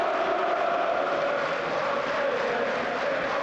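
A football stadium crowd at a Manchester United versus Newcastle United Carabao Cup match applauds a Newcastle midfielder leaving the pitch, making a steady, dense wash of distant clapping and murmur that holds evenly throughout.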